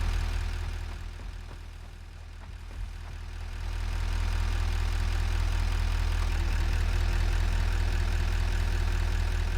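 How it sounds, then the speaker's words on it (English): Loud, noisy engine in the video game Satisfactory, a continuous deep rumbling drone that dips slightly and then swells back to a steady roar. "Wow, that engine's noisy."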